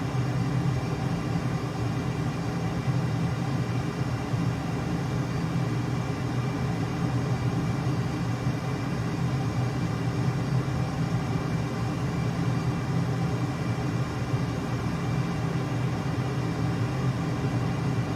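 A Boeing F/A-18 jet cruising at reduced throttle in Microsoft Flight Simulator 2020, a steady, unchanging engine drone with a broadband rush and no voices.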